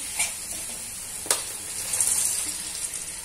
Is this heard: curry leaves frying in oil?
yes